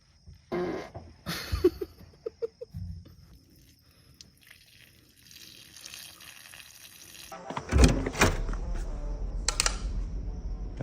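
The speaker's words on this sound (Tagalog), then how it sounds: "Utot ako." A loud, close fart erupts in a few short bursts during a hide-and-seek game, followed by rustling and a muffled rumbling noise.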